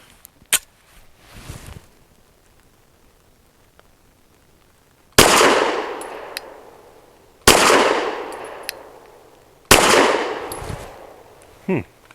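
A Saricam S-19 pistol fires Hornady American Gunner 115-grain jacketed hollow points outdoors: three loud, sharp reports spaced about two seconds apart, each ringing out in a long echoing decay, after a few faint earlier pops.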